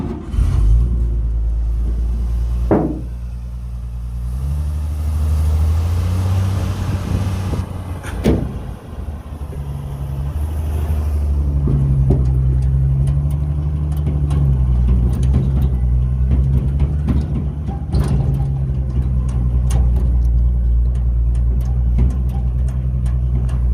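A restored truck engine roars steadily at full throttle, a loud low rumble that surges and holds for most of the stretch, with a few sharp knocks and clunks from the cab breaking through.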